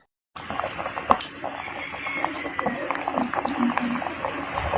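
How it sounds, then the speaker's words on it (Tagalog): A pot of Filipino tilapia soup with mango and eggplant boils on the stove, a steady close bubbling and simmering hiss with occasional clinks of utensils against the pot. "ngayon nga ay makikita nyo na nagbo-boil na po siya"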